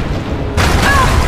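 A blast in Rise of the Tomb Raider as enemies explode their way in: one loud, broad boom that cuts in abruptly and holds steady, with a brief whistling tone riding over it.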